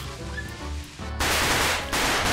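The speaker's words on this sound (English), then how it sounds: "Oh, it's firecrackers." Firecrackers go off in a physics game, a harsh burst of loud crackling that starts suddenly after a moment of music and keeps rattling close up until the end.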